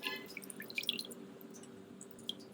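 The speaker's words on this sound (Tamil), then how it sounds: "கொஞ்சம் தேவையான அளவு லெமன் புழிஞ்சிக்கலாம்" Lemon juice dripping into a glass of salted beetroot juice, a few small, faint, scattered drips near the start and again near the end, over a quiet, steady background with no talking.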